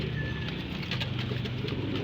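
Young pigeons coo in soft, repeated low notes close by, over a steady hiss of background noise.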